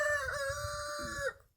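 A rooster crows close by in one clear, sustained call of about a second and a half that cuts off sharply, with soft low rumble underneath.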